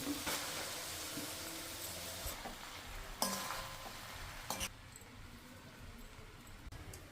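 Puffed rice being stirred in a pan with fried tomato, green chili and onion, a steady sizzle under repeated scraping strokes of a spoon, with a few sharp louder scrapes.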